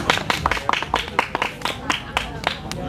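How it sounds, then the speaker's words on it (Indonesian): Several people clap together in a lively round of applause at a live music cover performance, steady overlapping claps filling the moment at close range with voices mixed underneath. "Tepuk tangan dulu."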